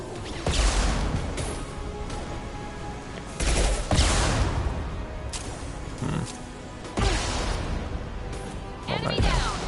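Gunfire in the shooter Mass Effect 2, loud bursts of shots in several clusters with crashes between, while players talk over the action.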